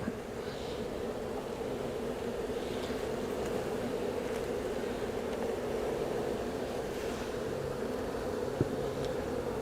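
A cluster of honey bees from a swarm hanging together with no comb yet, giving a continuous low droning hum throughout, steady and moderately close.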